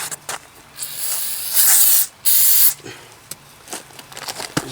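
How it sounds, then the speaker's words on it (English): Brake cleaner sprayed onto a new front brake rotor of a 2006 Chrysler 300, with two loud sustained hissing bursts up close, separated by a brief pause and followed by lighter rustling handling noises. "spray some brake clean on it"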